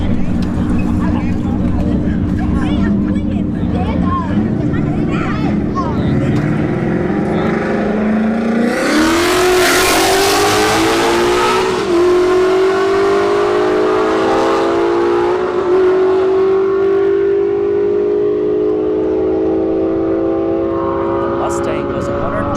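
A 197 Mustang and an Acura sedan drag racing down a strip, engines roaring loud and continuous with a rising pitch sweep as they accelerate past, close and intense throughout.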